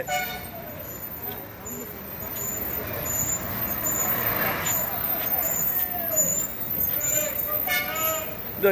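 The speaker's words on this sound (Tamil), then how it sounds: "இங்க பாருங்க ரெண்டு பஸ் பெங்களூர் போறதுக்காக தயார் நிலையில உள்ளது" Buses idle and hiss with air brakes at a busy new bus stand in Salem, with engine rumble throughout, brief toots and short pneumatic releases, and a voice talking over the traffic noise.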